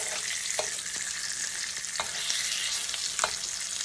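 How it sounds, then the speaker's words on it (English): Bacon frying in a pan with its fat rendering out, a steady, close crackling sizzle punctuated by several sharp pops and spatters at irregular intervals. "So kind of pay attention to how much bacon fat gets rendered out of this."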